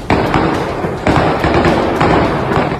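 Dull, booming blasts from nighttime drone strikes over Kyiv, several heavy thuds rolling one after another over a dense, continuous rumble of noise.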